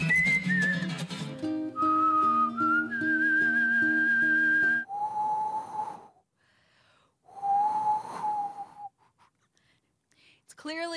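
Competitive whistling at the World Whistling Championships in California: clear, melodic human whistled tones, first over a musical accompaniment, then two sustained solo whistled phrases separated by a brief pause, close and loud.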